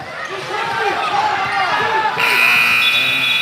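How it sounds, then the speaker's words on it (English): The buzzer sounds at the end of the first half of a youth basketball championship game in Chicago, a loud sustained electronic tone cutting in over bouncing balls, squeaks and crowd noise in an indoor gym. "no shot attempt for Fire at the buzzer"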